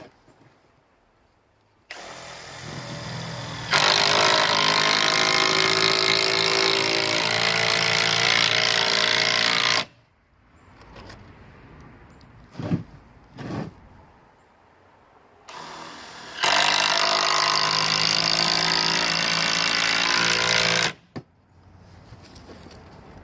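A power drill drives screws into pallet wood for a firewood rack, with two long, loud, steady whirring bursts separated by quieter clatter and a couple of short knocks.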